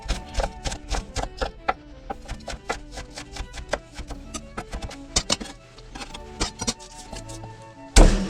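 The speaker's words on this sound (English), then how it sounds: "We're gonna cut up the garlic." A kitchen knife chops garlic on a cutting board with rapid, sharp, evenly spaced knocks, close and clear, and a louder thump near the end.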